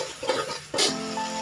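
Tomatoes and masala frying in a pan, with sizzling and a spoon scraping and stirring, then a sharp burst of hiss as more goes into the hot oil, settling into a steady sizzle.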